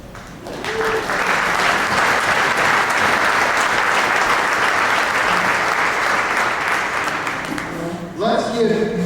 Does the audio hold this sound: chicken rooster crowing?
no